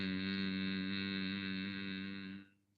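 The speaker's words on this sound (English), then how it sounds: "So this is the Brahmari breath or the humming bee breath." A person hums deep in the throat during Brahmari, or humming bee, breathing practice: one rich, steady, resonant hum sustained for over two seconds, then fading out.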